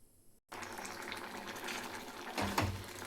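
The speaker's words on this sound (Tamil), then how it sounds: "நல்லா கொதிக்குது." After a brief quiet moment, a pot of erissery with coconut boils on the stove with a steady rushing, bubbling sound that swells louder near the end.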